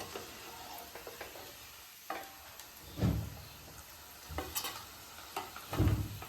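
Bitter gourd (karela) frying in a pan, a low steady sizzle broken by several louder scraping stirs and clatters of a spatula against the pan.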